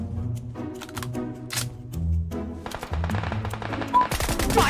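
Rapid bursts of automatic gunfire in the BGMI battle royale game, sharp repeated shots in quick rattling strings that grow denser and louder toward the end.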